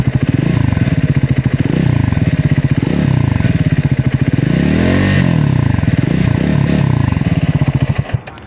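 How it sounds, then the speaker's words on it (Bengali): A Triumph Scrambler 400 X motorcycle engine revs close by, loud and continuous, its throaty note climbing and falling through repeated throttle blips before cutting off at the end. "এটা হচ্ছে আইডেলে গাড়িটার সাউন্ড। এবার রেভ করলে"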